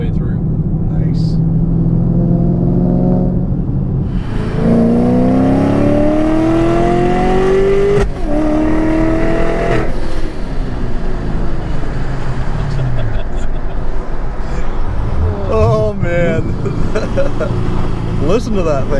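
Chevrolet Camaro V8 with long-tube headers and mid pipes, a loud, close rumbling exhaust that rises and falls through rev sweeps and gear changes, with voices talking over the roar.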